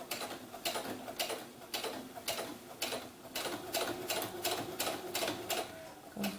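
A sewing machine runs while doll rompers are sewn, a rapid mechanical ticking in repeated short bursts with brief pauses between them, close and fairly quiet.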